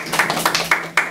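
A few sharp, close hand claps from a small audience at a talk show discussing Bitcoin, sounding in a brief uneven burst of about five claps.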